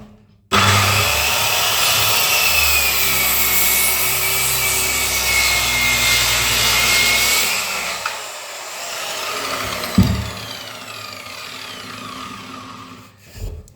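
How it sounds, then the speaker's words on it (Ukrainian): Dnipro-M CS-185LX circular saw making a 45-degree bevel cut in wood, a loud high whining cut lasting several seconds, then the blade winding down with a brief thump and the motor spinning briefly again. "Ось так ось ріжемо під 45 градусів."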